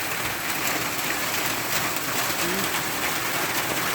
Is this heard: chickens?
no